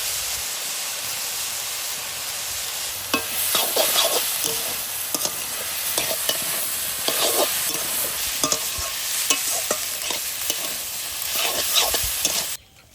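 Small prawns seasoned with turmeric and salt fry in a pan with a continuous close sizzle and hiss, overlaid by frequent scraping stirs, with no one talking.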